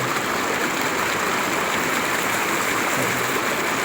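A constant, loud rush of floodwater, broad and unbroken, like a strong current surging past nearby in a flooded village beside an overflowing pond.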